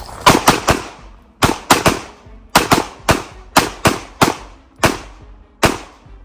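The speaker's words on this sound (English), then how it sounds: "Go ahead and draw your gun. Sights on target. Press the trigger hard on purpose." A handgun fires about a dozen sharp, loud shots from the 3-yard line at an outdoor shooting range, in quick pairs and singles with short pauses between them, and no talking.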